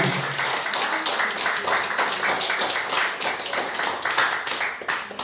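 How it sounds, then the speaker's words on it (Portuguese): Congregation clapping together during an evening service at an evangelical church in Campo Comprido, Curitiba, a steady dense patter of many hands with faint voices mixed underneath. "Aplauda o Senhor mais uma vez."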